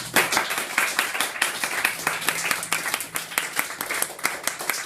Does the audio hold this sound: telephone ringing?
no